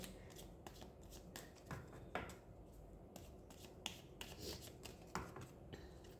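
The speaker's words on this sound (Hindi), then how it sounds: "इसमें से एक कार्ड निकाल देती हूँ" Tarot cards handled close up, with repeated soft slaps, flicks and riffling shuffles as cards are drawn from a deck, quiet and intimate with no voices.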